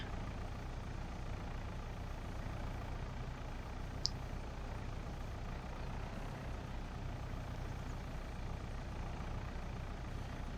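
A pickup truck drives steadily in Farming Simulator 22, its engine a continuous low rumble that stays even and moderately faint throughout.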